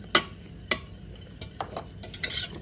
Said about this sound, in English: we're going to whisk whilst we pour it in